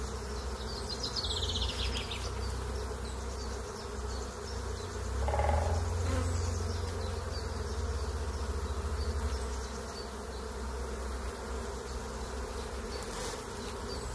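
Forager honeybees stream back into a hive during a brood inspection, their dense steady buzzing filling the air close by, with a louder, deeper swell of wingbeats passing near midway.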